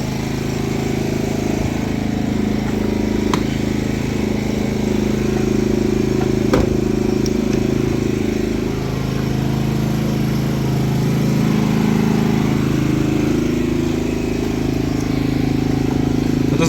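A Maxpeedingrods 3500-watt inverter generator runs just above idle powering a couple of lights at about 470 watts, a steady low engine drone that stays even and close throughout with no breaks.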